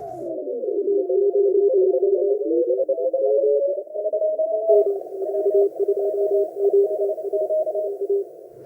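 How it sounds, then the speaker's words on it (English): Many overlapping Morse code tones beep at once around one pitch, a dense, continuous tangle of faint amateur radio signals competing in a pileup for a South Orkney Islands expedition station. "So I have this huge global pileup of kind of like S0 signals."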